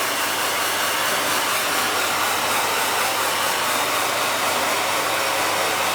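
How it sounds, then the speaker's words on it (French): A hair dryer blows continuously at close range as a steady, even rushing whoosh for the whole stretch, with no voices over it. "Je vais aider un petit peu au sèche-cheveux"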